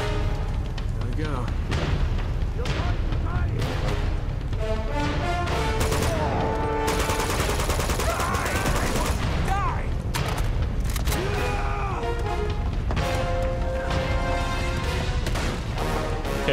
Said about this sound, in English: Now he's chucking grenades.